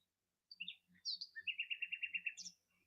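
Birds chirp from a nature video playing on a screen: a few quick high notes, then a steady run of about ten evenly spaced tweets forming a trill, fairly faint and clear with no talking.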